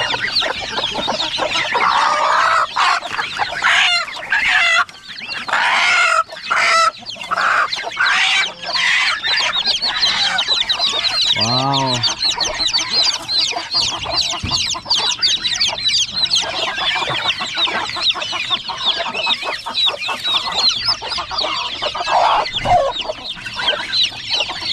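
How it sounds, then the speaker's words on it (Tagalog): Chickens cluck loudly and close by on a farm where a new chick has hatched, with busy overlapping clucks throughout and a brief high peeping call partway through. "May bagong sisiyo naman dito, oh."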